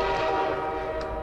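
A train horn from the video game Portal 2 sounds loud and steady with a sustained, rich tonal blast, heard alone for its full length.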